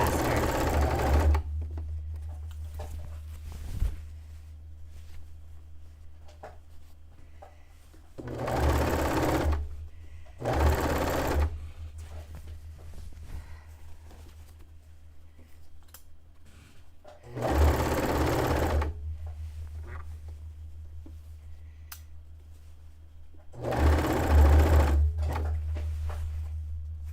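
A sewing machine stitches a ruffle onto a bed-sheet dress in loud, close bursts of whirring, four main runs of a few seconds each separated by quiet pauses.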